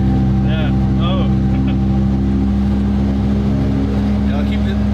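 A BMW M3 E46 with a manual S85 V10 swap and individual throttle bodies runs at the Nürburgring, heard from inside the cabin as a loud, steady, droning engine note, with brief voices over it.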